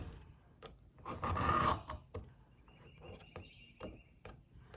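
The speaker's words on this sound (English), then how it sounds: "I'm going to take the knife sharpener and I'm going to put the V on the blade, and I'm going to pull to me." A V-notch knife sharpener drawn along a kitchen knife blade at home, giving a loud rasping scrape for about a second, followed by several short, quieter scraping strokes.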